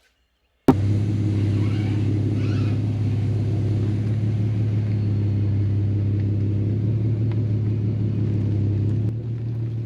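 An Infiniti G37 with wheel spacers and tires rubbing the fender starts up and drives, giving a steady, loud low engine rumble heard from inside the car, ending with a slight drop in level.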